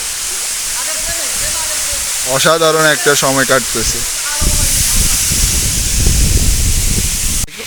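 Steady roar of a hillside waterfall as someone wades through the water below it, a continuous broadband rush that grows louder in the second half, with someone talking over it in the middle.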